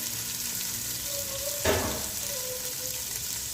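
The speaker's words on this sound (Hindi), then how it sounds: "प्याज डाल के हमने इन्हें अच्छे से सुनहरी करना है।" Onions frying in a pan on the way to golden, a steady close sizzle with a brief louder stir midway and a faint tonal whine in the background.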